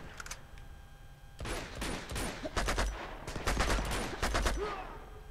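FAL rifle firing in Uncharted 2: Among Thieves, a burst of sharp shots, then a quiet gap, then repeated clustered cracks coming in quick rhythmic groups, loud and close.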